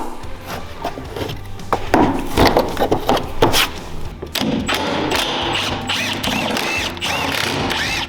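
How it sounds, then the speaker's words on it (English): Plastic push clips are pried out of a trim panel on a Honda Talon side-by-side, giving close, loud scraping, clicking and rattling of plastic and tools, with a steady rustling stretch in the second half and no talking. "So we're going to start off by taking these push clips out"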